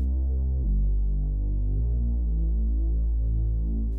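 A deep, sustained synth bass pad built in the Vital synthesizer, heavy low-end drone with slow throbbing pulses and a chord shift partway through, dense and steady with no voices.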